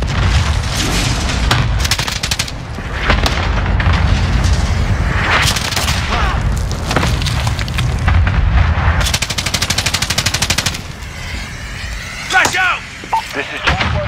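Call of Duty Modern Warfare (2019) online match with a cluster strike: dense rapid gunfire and heavy booming blasts pile up over the whole stretch, loud and close, with voices over the combat.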